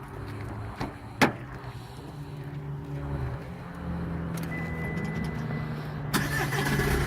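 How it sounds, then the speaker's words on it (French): A car engine is started during a pre-drive check for a trailer licence test, with a click and brief starter whir, then the engine settling into a steady close idle, a door or switch clunk near the end. "Mise en route du moteur, absence d'anomalie sur le tableau de bord"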